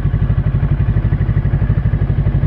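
An FKM Falcon x400 400cc motorcycle engine idles close by, a loud and steady pulsing thump that throbs evenly the whole time.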